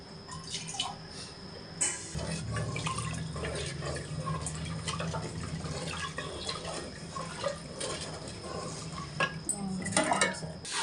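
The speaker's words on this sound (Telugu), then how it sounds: "రెండు బియ్యానికి 3 పాలు వేస్తున్నాను." Milk pours into a pot for coconut biryani with chicken: a sustained gurgling stream of liquid that lasts several seconds, with drips, splashes and clinks of cookware around it.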